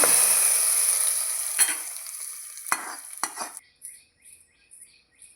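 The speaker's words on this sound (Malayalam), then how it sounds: "ഉള്ളിമുളകൊക്കെ നമ്മൾ ഇതിലേക്ക് വറുത്തിട്ടു." Onion and chili fry in a pan for a Kerala-style curry, a steady sizzle that fades as a spoon stirs and clinks against the pan a few times.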